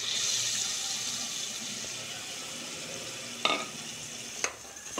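Murrel fish curry masala in a pan gives off a low, steady sizzling hiss while being mixed, with two brief knocks of a spoon against the pan late on.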